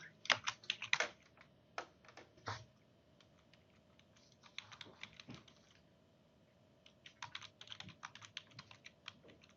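Quiet, close tapping on a computer keyboard comes in uneven bursts of keystrokes with short pauses between them, no voices.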